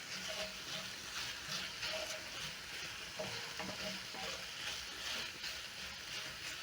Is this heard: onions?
yes